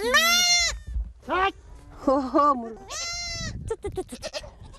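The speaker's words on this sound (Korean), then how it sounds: "새끼에게 젖을 물릴 수 있도록 아기 염소를 어미의 품으로 돌려보내주는데요." Young goat kids on a Mongolian farm bleat loudly and repeatedly in close, wavering cries, several calls in quick succession.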